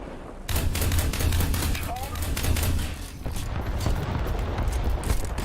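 Tank cannon fire in an online war video game, heavy booming blasts with dense rumbling gunfire and explosions running continuously, loud and close, with a voice talking over the battle noise.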